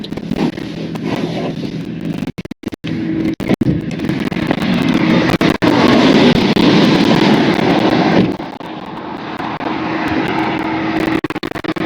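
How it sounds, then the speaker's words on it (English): A tuned 1250 hp Lamborghini Huracan twin-turbo 5.2-litre V10 roars loudly and close, with sharp crackles and brief cut-outs, before the roar drops to a lower, steadier drone. "which is that V10 engine"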